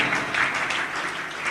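Brief, even applause from an audience at a Hindi business and income seminar, a continuous patter of hands without any voices over it.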